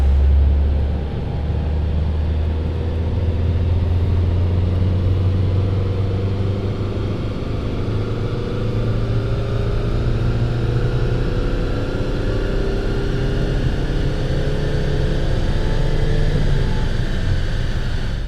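A high-mileage car with a PD TDI diesel engine, nearly half a million kilometres run, roars steadily on a dyno, a loud low droning rumble sustained throughout with no voices.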